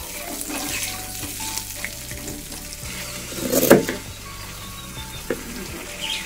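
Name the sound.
potatoes frying in a pan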